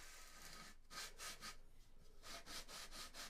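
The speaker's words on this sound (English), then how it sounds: "Now we're going to lightly sand this trailing edge" A 22-inch sanding bar with 220-grit paper rubs lightly back and forth along a balsa wing trailing edge. The strokes are soft, steady and rhythmic, close up and faint, with no talking.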